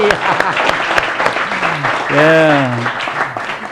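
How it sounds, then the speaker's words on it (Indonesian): An audience at a seminar claps briefly while a presenter's voice carries over the applause for most of the short span. "Tepuk tangan"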